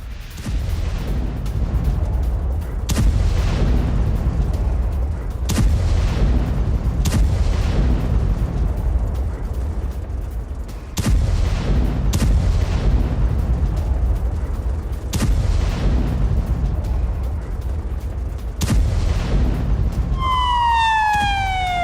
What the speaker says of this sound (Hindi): गाजा में फिर से इजरायली फोर्स की बमबारी हुई है।